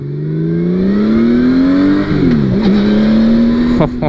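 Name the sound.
Honda Valkyrie motorcycle engine revving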